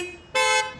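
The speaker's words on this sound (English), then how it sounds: "Now's when you honk your horn." A car horn gives one loud, steady honk of about a quarter second, standing out clearly above quiet background noise and then cutting off sharply.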